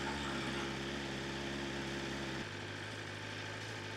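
A 2025 BMW M 1000 XR motorcycle engine idling steadily at about 1800 rpm with a constant hum that drops slightly in pitch midway, nearby and continuous.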